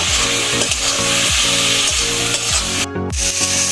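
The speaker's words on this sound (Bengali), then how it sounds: "মশলাটা এবার কষিয়ে নেব" Spice paste of turmeric, coriander, cumin and chilli powder frying with potatoes in a pan, stirred with loud rhythmic scraping strokes over a continuous close sizzle and a brief pause near the end.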